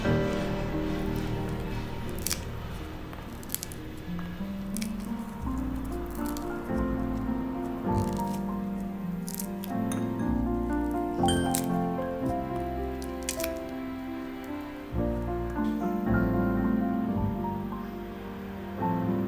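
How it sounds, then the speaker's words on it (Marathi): Kernels are stripped from corn cobs by hand, giving close, soft squishing and crackling with small irregular snaps that repeat throughout. "मी आता मक्याचे दाणे काढते"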